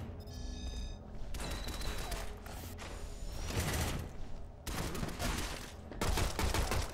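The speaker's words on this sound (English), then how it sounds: "Quit shooting." Gunfire erupts in the Shadow Complex video game, with dense rapid bursts of shots and mechanical clatter coming in several loud waves separated by brief lulls.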